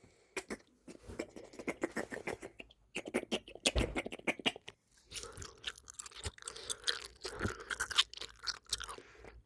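A Pokémon Gyarados gummy jelly being chewed up close, with soft crunchy, wet bites in quick irregular bursts and a brief pause partway through.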